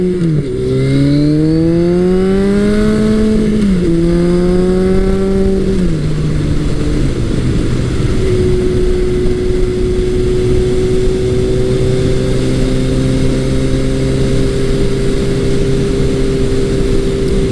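Motorcycle engine revving up through several gears, pitch climbing and dropping with each shift, then settling into a steady, loud cruising drone.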